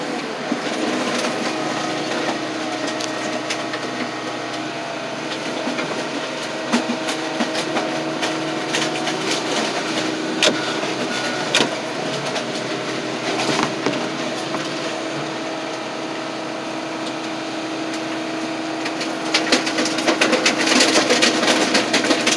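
A car crusher flattens a 1996 Chevy extended-cab pickup truck in a steady, grinding mechanical roar with scattered creaks and snaps of metal, continuous and close throughout, rising slightly at the end.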